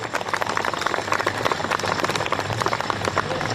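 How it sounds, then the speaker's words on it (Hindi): An assembled audience at a Hindi comic poetry gathering applauds loudly in honour of the poet Ramdhari Singh Dinkar, a dense, sustained roar of many hands clapping close and continuous throughout. "मैं चाहता हूं पूरा सदन एक बार हाथ खड़े करके जोरदार तालियां बजाइए"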